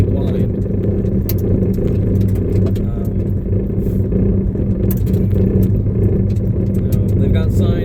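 A vehicle rolls at about 20 mph along a dusty gravel road, with a loud, steady rumble of tires and engine filling the whole stretch and scattered rattles and ticks over it.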